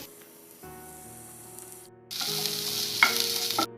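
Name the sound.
onion roasting on a tawa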